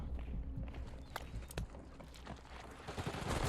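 Gunfire in a shooter video game, rapid bursts and scattered shots over a busy low rumble of game ambience, moderately quiet and somewhat distant-sounding.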